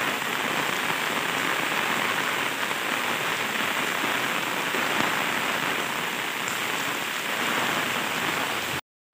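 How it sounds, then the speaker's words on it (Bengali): Heavy rain pours down in a dense, unbroken hiss of drops striking surfaces, loud and steady throughout, then cuts off abruptly at the end. "তো কী হারে বৃষ্টি নেমেছে দেখো।"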